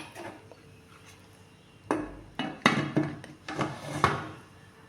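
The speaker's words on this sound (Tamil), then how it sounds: "இப்போ மூடி வச்சிடலாம்" A lid set onto a cooking pot while making a wheat cake, heard as a close cluster of hard clattering knocks and rattles, several in quick succession, after a quiet start.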